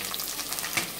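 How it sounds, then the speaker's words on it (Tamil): Finely chopped onions sizzle in hot oil in a pan, a soft, steady frying hiss for a brief moment with no talk. "இப்போது நல்லா பொடியாக நறுக்கி வச்சுருக்கிற வெங்காயத்தை ஆட் பண்ணுறோம்."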